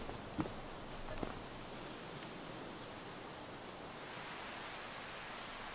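Soft, steady rain patters continuously in the video game Farming Simulator 25, with a couple of faint taps near the start.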